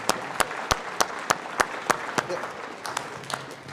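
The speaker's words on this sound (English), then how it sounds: "I think we should have a round of applause for that" An audience at a talk session claps in separate sharp bursts, roughly a dozen distinct claps spaced about a third of a second apart, fairly close and moderately loud over a soft room murmur.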